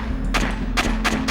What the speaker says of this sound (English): gunfire was overwhelming and relentless